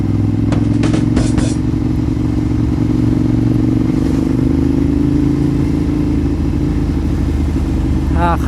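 A Ducati motorcycle is ridden through city streets toward a market, its engine a loud, steady low drone heard up close from the rider's position, with faint clatter and a voice talking over it.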